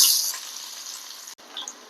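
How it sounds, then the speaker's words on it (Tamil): Mustard seeds sizzle and crackle in hot oil, a bright steady frying hiss with a brief break near the end, no voices. "எண்ணெய் ஊற்றிக்கிறேன் கடுகு போட்டுக்கிறேன்"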